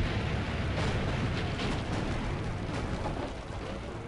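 Cannon fire in Assassin's Creed Brotherhood rumbles as a dense, continuous roar of explosions and booming bursts, loud and sustained, with no speech over it.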